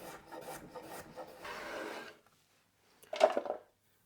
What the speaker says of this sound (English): I have one carrot that I'll just cut into slices for my lettuce wraps